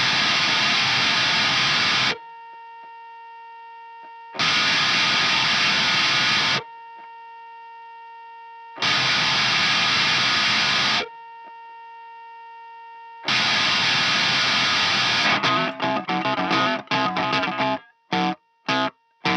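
Heavily distorted electric guitar through a Gonkulator effect pedal playing long sustained bursts separated by silences, ending in rapid choppy stutters.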